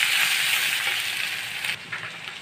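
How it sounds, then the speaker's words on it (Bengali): Chopped onions frying in cooking oil, a steady loud sizzle that fills the pan and softens slightly toward the end, with no voices. "পেঁয়াজগুলো ভাজা দেওয়া হয়েছে"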